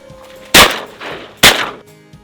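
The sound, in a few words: restored shotgun firing while duck hunting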